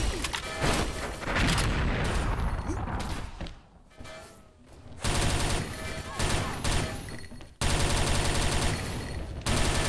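Gunfire and explosions crackle through a first-person shooter match, with dense rapid bursts, booms and a grenade blast, loud and continuous with brief lulls and occasional talk underneath.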